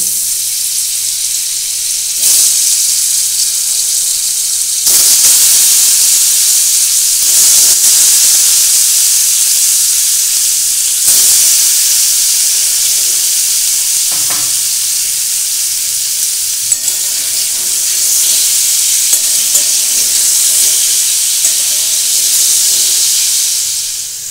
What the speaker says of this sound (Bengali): ওই তেলেই আমি পনিরগুলো একটু ভেজে নেব